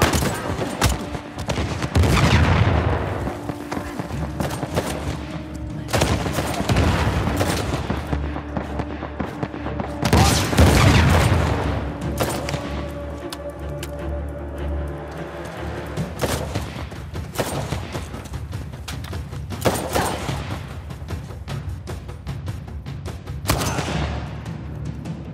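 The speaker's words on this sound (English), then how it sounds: "Open fire!" Heavy gunfire in a firefight from the video game Uncharted The Lost Legacy, with rapid overlapping shots and loud bursts running throughout and occasional shouted voices.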